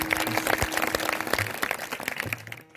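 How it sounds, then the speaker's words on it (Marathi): A crowd claps steadily in dense applause at a kirtan performance, sustained for a few seconds. "टाळी वाजवा आता तुम्ही."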